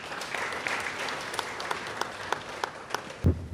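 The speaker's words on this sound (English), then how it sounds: "can we give a better clap to the team of the SC?" Delegates at a Sacco society annual meeting clap together in a hall, a steady round of applause with sharper individual claps standing out, sustained and moderately loud throughout.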